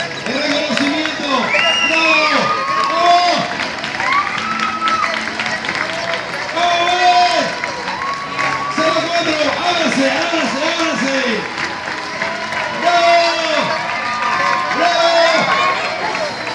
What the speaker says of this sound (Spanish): Y los aplausos, el reconocimiento.